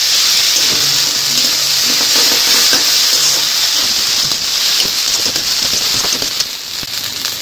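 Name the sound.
ginger garlic paste frying in oil with onions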